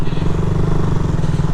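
A motorcycle on a road between Mysore and Ooty gives a loud, steady engine drone that stays close and even throughout.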